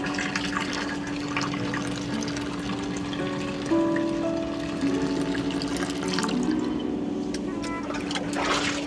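Fresh grape juice pours steadily in a raisin syrup workshop in Iran, a continuous close splashing flow of liquid filling a vessel, with no talking.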